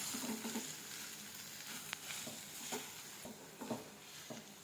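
Sheep blood frying in a pan, a steady close sizzle with occasional soft stirring scrapes and faint pops, no talking.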